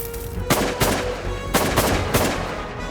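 Shotgun blasts during an early-season waterfowl hunt in Saskatchewan: five or six loud, sharp shots in quick bursts over about three seconds, with no talking.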